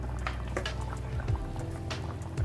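A pot of soya chunk kofta curry bubbles at a gentle simmer, with soft, irregular blips and pops over a low, steady hiss.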